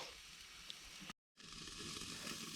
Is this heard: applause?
no